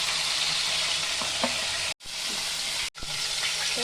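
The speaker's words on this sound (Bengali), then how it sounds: "তো চিকেনটা আমি এই পিঠ ওপিঠ ভালো করে ভেজে নিয়েছি, আমি এখন নামিয়ে দেবো" Chicken pieces sizzle steadily in hot oil in a pan, a constant close broadband fry with faint utensil clinks, broken twice by brief cuts to silence; no talking.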